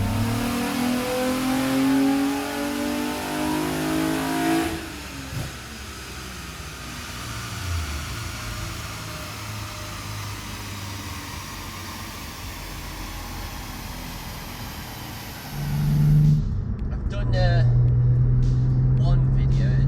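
A Nissan 350Z DE fitted with a Horsham Developments 5/16 plenum spacer and UpRev tune revs hard on a dyno, the engine note sweeping up loudly, easing into a steady drone, then surging again near the end.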